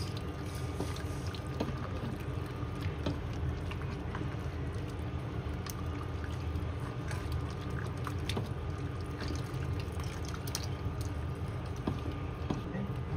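Liquid pours continuously at a steady, low level, a soft running splash with faint clicks and no voices.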